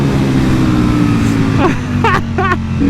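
A Ducati Panigale V4 Speciale, 226 hp, pulls hard in third gear in sport mode, its engine a loud, steady drone heard close against wind rush, with a voice speaking briefly near the end.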